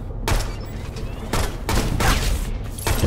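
WSP 40 pistol fired in the game Shadow Complex Remastered: several loud, close gunshot bursts in quick succession over a dense background of game sound.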